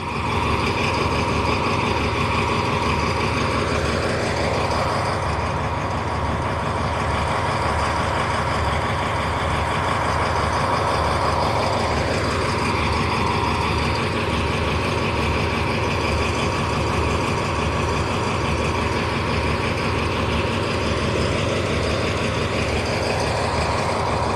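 Thai special express train Thaksin No. 38 idling at the station platform, a loud continuous diesel engine drone with a steady hum and slowly shifting tonal whine, no voices.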